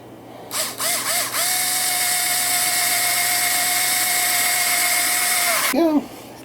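An electric drill boring holes in an ice machine part: a few short trigger bursts, then a steady high whine held for several seconds before winding down, close up, with no talk.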